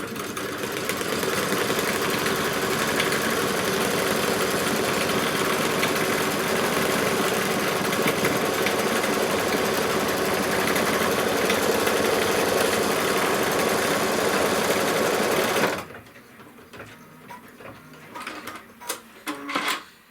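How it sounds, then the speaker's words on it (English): An embroidery machine stitches a tack-down line around the outside of a pieced quilt square, its steady mechanical whir and rapid needle clatter running loud and continuous for about fifteen seconds before stopping, followed by faint clicks and handling noises. "what it's going to stitch next is just a little tack down all the way around the outside"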